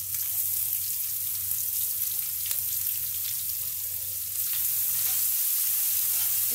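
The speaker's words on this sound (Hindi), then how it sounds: "इसमें डालेंगे प्याज कटी हुई" Chopped onions frying in oil with bay leaf and cooked spices for an aloo gobhi sabzi, giving a continuous close sizzle with a faint stirring clink partway through.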